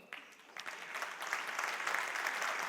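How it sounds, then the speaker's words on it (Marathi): An audience at a talk on the role of teachers bursts into applause, a crowd of hands clapping that begins with a few scattered claps and swells into steady, dense clapping. "तुम्ही आत्ता टाळ्या वाजवत आहात"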